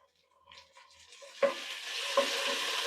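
Onion paste drops into a pan of already fried onions in hot oil, two soft wet plops followed by a rising, steady sizzle that holds to the end, with no voices.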